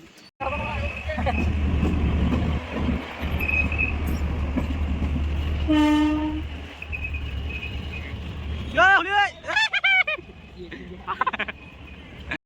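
A train rolls past a closed level-crossing gate where a crowd waits, a steady close rumble lasting several seconds before it fades, followed by voices and higher sounds near the end.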